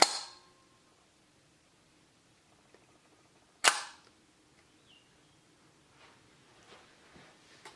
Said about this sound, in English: If I fire the shutter I've got on B,